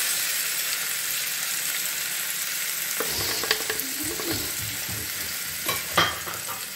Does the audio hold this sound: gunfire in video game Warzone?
no